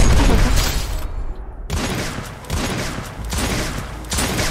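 Dense, loud gunfire from the Free Fire mobile battle game, with rapid overlapping shots and bursts running almost continuously, broken by one brief lull.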